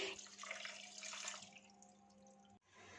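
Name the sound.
cold water being poured into a pot of boiled macaroni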